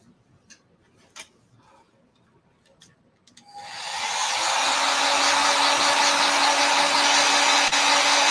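A hair dryer blows to dry a Valentine's Day craft, switching on after a few soft ticks and clicks and then holding a steady, loud, close whoosh with a faint whine for the rest of the clip.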